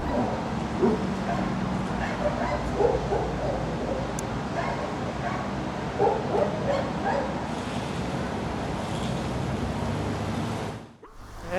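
Dogs bark and yip continuously at a Białystok animal shelter in winter, several animals overlapping at moderate distance in a busy, noisy space, with occasional whimpers and a sudden drop near the end.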